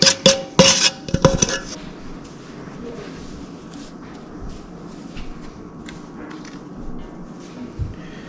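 Granulated sugar, about ten pounds, being stirred in a container to make a beehive sugar board; rapid scraping and clinking strokes come close and loud in the first two seconds, then give way to a low, steady background rustle.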